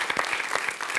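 A French quiz-show studio audience applauding a singer, a short burst of clapping with individual claps audible in an uneven rhythm, moderately loud and without talk.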